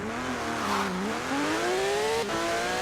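A Porsche GT3 RS race car in Forza Horizon 4 launches from a standstill on a wet road, its engine note climbing through rising revs with a quick gear change, loud and close.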